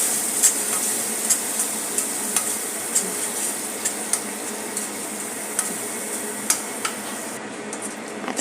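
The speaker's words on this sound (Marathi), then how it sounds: "खोबऱ्याचे वाटण चांगले परतून घेऊ." Ground coconut paste sautéing in a pan for egg curry, a steady soft frying hiss with regular light scrapes and clicks of a spoon stirring, close and alone.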